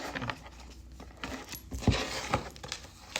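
A deck of playing cards being shuffled, heard as a few quick, soft riffling bursts and light taps close by, fairly quiet overall with no talking.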